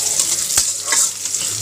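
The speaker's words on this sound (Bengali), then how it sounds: "এই তো ডাল তেলে দিচ্ছি আমার পরিষ্কার করা কড়াইতে" Lentils hit hot oil in a freshly cleaned wok, giving a loud, close, continuous bright sizzle with a brief stir or clatter partway through.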